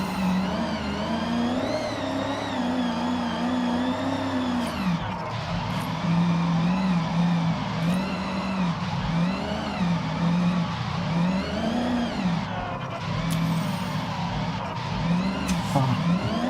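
Engine revving in a drifting video game with a supercharged car, engine note rising and falling repeatedly in steady, loud cycles, with tire skid noise mixed in throughout.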